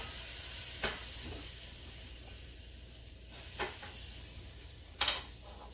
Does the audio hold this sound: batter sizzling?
yes